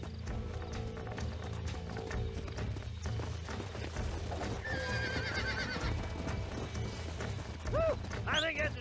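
Horse whinnying and hooves clopping on a ranch in the video game Red Dead Redemption, played over steady background music and ambience, with a rising whinny near the end.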